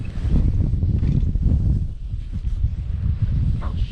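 Steady gusty wind buffets the microphone outdoors while fishing from a boat for redfish and bass, a continuous low rumbling roar with slight dips, no speech.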